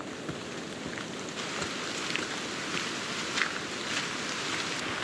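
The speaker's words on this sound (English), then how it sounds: "it's raining all right" Heavy rain falls steadily on a camp tarp in a foggy, stormy forest. It makes a dense, even hiss of many drops, with a few louder taps rising above the wash.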